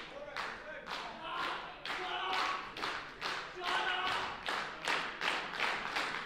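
A wrestling crowd claps in a steady rhythmic beat to rally Kirk Warmack in his match against Matthew Grant, about a dozen even claps filling the arena.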